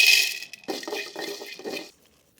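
Cloves dropped into a dry pan for roasting while making kari masala, giving several short light clinks and rattles in quick succession, fairly close, with no talking.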